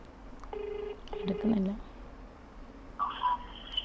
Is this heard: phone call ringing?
yes